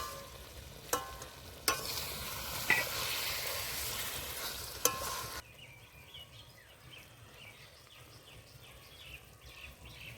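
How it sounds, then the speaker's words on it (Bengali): Egg and eggplant curry being gently stirred in a pan, a soft sizzle with a few sharp spoon clicks against the pan for about five seconds, then a quieter stretch where faint bird or insect chirps come through in the background. "এবার একটু নেড়ে নেব আলতো হাতে নাড়তে হবে"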